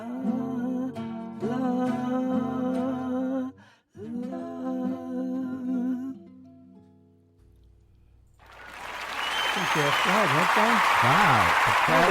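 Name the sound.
crowd cheering at Woodstock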